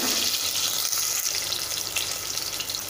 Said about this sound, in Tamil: வெங்காயம் வணங்கிட்டுருக்கு